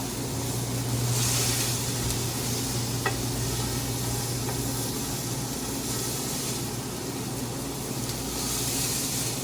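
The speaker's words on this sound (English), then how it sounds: "All we're doing is searing the outside here." Stuffed pork tenderloin saltimbocca sears in a hot pan with a continuous, even sizzle and hiss, close and steady, with one small sharp crackle partway through and no talking.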